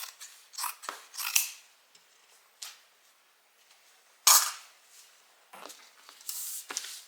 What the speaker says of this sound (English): We're just going to cut this part off.